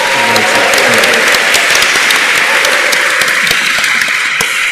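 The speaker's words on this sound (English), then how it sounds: "clap and cheer as loudly as possible for this amazing" A seminar audience in Liverpool bursts into loud, sustained applause with cheering, dense clapping filling the whole stretch without letup.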